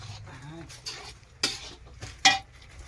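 Milk poured into a pot and stirred for carrot halwa, with spoon scrapes and clinks against the metal pan in a few distinct bursts near the microphone.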